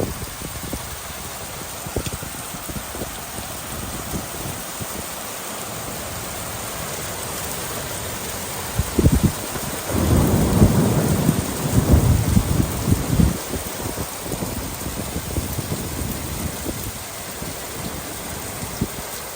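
Steady downpour of heavy rain with rumbling thunder swelling midway, a loud storm surge in the middle before easing back to constant rain.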